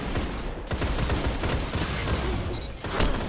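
Gunfire from The Last Word hand cannon in the video game Destiny 2, a rapid burst of close, loud shots fired in quick succession, with no talk.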